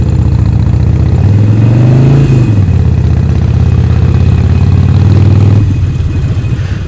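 A Harley-Davidson Forty-Eight motorcycle with Vance & Hines Short Shots exhaust revs up loudly and accelerates, its pitch rising then dropping with a gear change, followed by steady throaty running close by.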